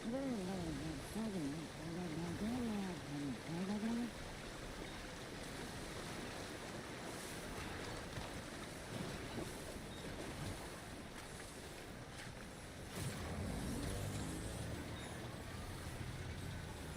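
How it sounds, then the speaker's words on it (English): Rising river water in a video game rushes steadily as a broad, continuous wash, joined by a louder surge near the end. A voice-like tonal warble sounds briefly at the start. "The rising rivers is not very fun."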